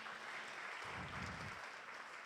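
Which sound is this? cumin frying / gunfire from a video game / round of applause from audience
round of applause from audience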